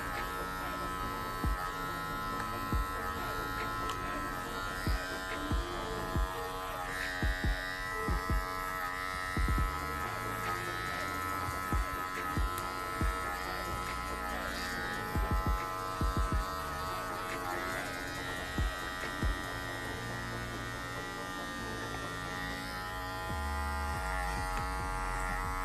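An electric hair clipper set to a 1.5 lever position blends a line in a women's faux hawk haircut, giving a steady close buzzing hum. Small dips and clicks come as it moves through the hair, and no one speaks.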